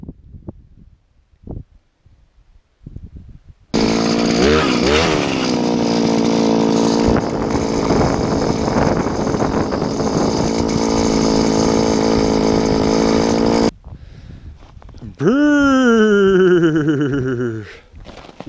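A loud, steady motorized whine of an ice auger drilling through ice runs for about ten seconds, then cuts off; after a short pause a second burst revs up and winds down, outdoors in cold weather.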